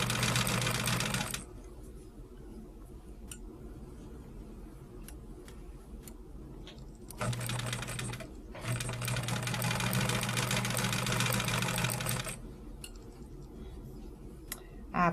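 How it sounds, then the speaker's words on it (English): Chain piecing quilt blocks, a sewing machine runs in a loud steady whir, goes quiet for several seconds, then sews again in a long burst, close up with faint clicks in between. "I'm just running them through the machine and chain piecing right sides together"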